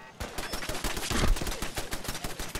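Rapid, dense bursts of gunfire from a Fallout 4 firefight crack close and loud in quick succession, with no talk over them.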